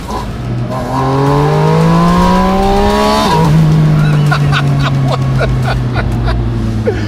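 A 2025 Porsche Spyder RS engine revs up through rising harmonic sweeps, drops briefly, then holds a loud steady drone with sharp pops over continuous road noise.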